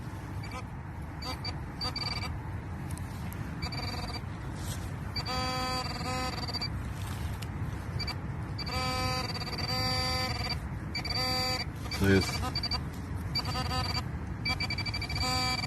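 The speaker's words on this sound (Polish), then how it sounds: "Bip, bip, włącz pinpointer." Repeated short electronic beeps in bursts from a metal detector pinpointer in a forest, fairly loud over a steady outdoor background hiss, with a brief knock partway through.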